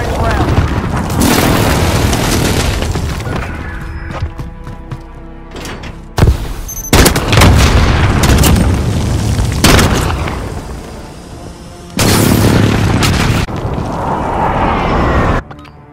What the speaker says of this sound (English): Fire strike inbound.